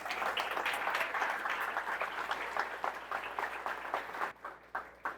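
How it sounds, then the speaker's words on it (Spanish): Church congregation giving a round of applause to the team, a sustained crowd clapping at moderate distance that thins toward the end into a few scattered claps, no voices over it. "Yo les invito a que le den un fuerte aplauso a todo nuestro equipo."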